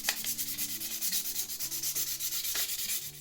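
Knife scales on a Victorinox Traveller are sanded with 800-grit sandpaper in a steady back-and-forth rubbing, close and continuous, with a few brief sharper scrapes and no talking.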